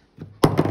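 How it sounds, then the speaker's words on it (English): A soft tap followed by a sharper, solid thunk as a glue container drops onto a hard tabletop, close by. "that was the sound of my glue dropping"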